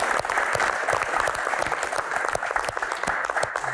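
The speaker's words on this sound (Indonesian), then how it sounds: "Jadi Tante pantang menyerah ya, tepuk tangan." Applause from an audience at a question-and-answer session with badminton player Greysia Polii, dense steady clapping filling the whole moment at moderate loudness with no talk over it.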